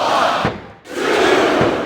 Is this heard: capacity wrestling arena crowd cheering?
yes